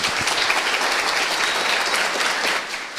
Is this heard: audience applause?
yes